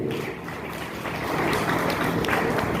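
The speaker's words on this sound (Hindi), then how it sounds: "ग्रेट यार, एक बार जोरदार ताली आप सबके लिए" Audience applause, a continuous wash of many hands clapping at once, steady and dense from a room of people, moderately loud.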